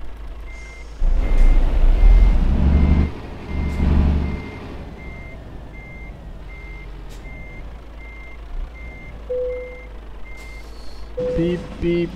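Truck in Euro Truck Simulator 2 reversing, regularly spaced reversing beeps over a deep engine rumble that swells early on, then brief tones and clicks near the end.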